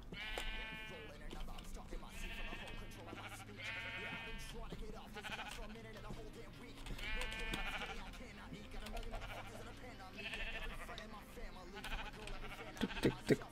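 Sheep in the Minecraft video game bleat repeatedly in spaced, wavering calls, loud and clear, while someone talks over parts of the sequence.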